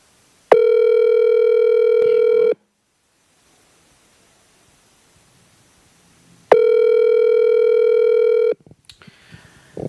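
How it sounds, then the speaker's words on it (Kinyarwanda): A telephone ringback tone sounds twice while a call is being placed again, each a loud steady two-second buzz with a long silent gap between them, followed by faint rustling and a short burst of noise. "reka dukupe twongere tumuhamagare rimwe ryonyine gusa"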